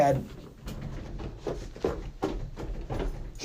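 A closet door bumps against the handle of another door, producing a series of soft, irregular knocks and rattles at close range in a quiet room.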